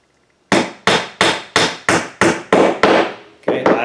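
A hammer strikes birdhouse kit wood pieces together in eight sharp, loud, evenly spaced blows, close up and with no voices.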